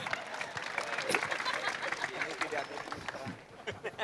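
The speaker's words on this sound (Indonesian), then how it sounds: "Tepuk tangan buat Rocky dong" An indoor audience claps for Rocky Gerung at a talk on civil society, a moderately faint ripple of applause mixed with crowd murmur that thins out toward the end.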